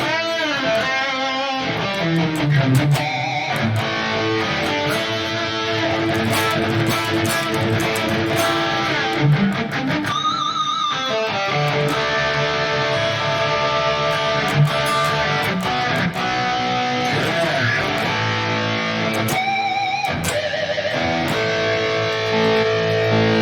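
Heavily distorted high-gain electric guitar through a Kemper with a double tracker in stereo plays chugging riffs and sustained chords, thick and wide, loud and continuous without any voices.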